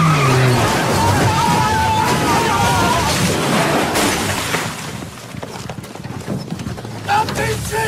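A car brakes hard and its tires skid, a loud, close, sustained rumble and screech lasting several seconds, with excited voices shouting over it.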